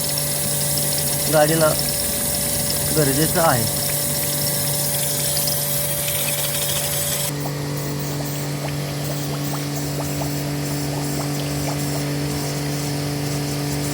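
Pressurized water flushing the engine coolant system of a Hyundai Santro in a garage, a steady hissing rush with a constant pump hum underneath while someone talks over it.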